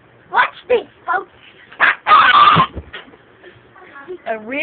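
A man vocally imitates a chicken with a run of loud, clucking squawks and honks, one long burst in the middle, loud and close with no other sound around.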